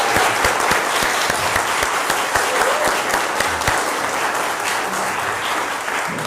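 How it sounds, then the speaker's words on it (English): A church congregation applauds new members during a Sunday worship service, dense steady clapping with a few cheers filling the room for several seconds without letting up. "can we have a little round of applause for our new members?"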